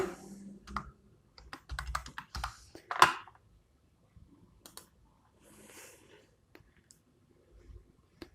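Quick bursts of keystrokes on a computer keyboard, close and crisp, clustered in the first few seconds and then trailing off into sparse clicks.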